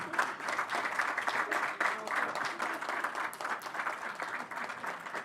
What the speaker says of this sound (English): Let's hold the applause, please.